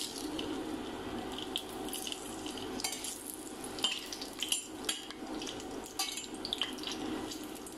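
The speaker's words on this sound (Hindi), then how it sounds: "तेल को हमें अच्छे से गर्म होने देना है, फिर पहले हम इसमें खड़ा मसाला डालेंगे।" Whole spices crackle and sizzle as they drop into hot oil in a pan while cooking an egg biryani, a faint busy frying hiss with small pops and stirring clatter.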